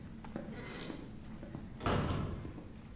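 A door opens in the Resident Evil 3 Remake video game, giving a short thud with a brief swell of noise over a quiet, steady ambient drone.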